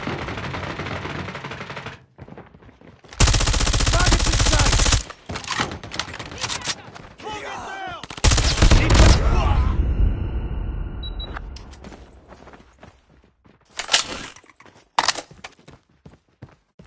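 Gunfire in a Call of Duty match, loud bursts of rapid automatic fire in several separate volleys with short pauses, plus scattered single shots and clicks, no talking over it.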